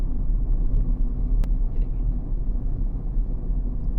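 A car reverses slowly into a parallel parking space on a narrow city road, giving a low steady engine rumble from inside the cabin, quiet and even, with no talking.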